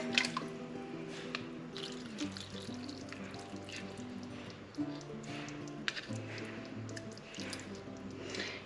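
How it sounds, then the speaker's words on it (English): Boiling water pours and trickles quietly into canning jars of chicken, with soft gurgling and small drips under a faint background hum. "Now in each jar, we are going to add boiling water."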